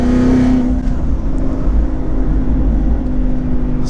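Twin-turbo 2019 Ford Mustang GT accelerating with tires spinning, a loud, steady engine drone with low rumble held throughout, close and without talk.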